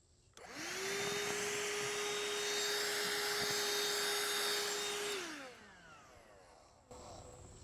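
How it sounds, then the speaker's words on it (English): A vacuum cleaner used to suck bugs off garden plants whines up to a steady loud drone for several seconds, then spins down, with brief rustling afterward. "You give your plants a good vacuum."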